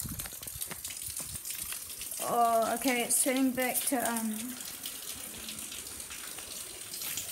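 Murky water runs steadily out of a tap, a continuous hissing flow that stays fairly close, while a person talks briefly over it partway through.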